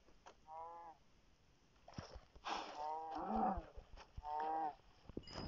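Cows on a farm moo several times, the lowing calls coming a few times in a row from moderately close, with some soft background noise between them.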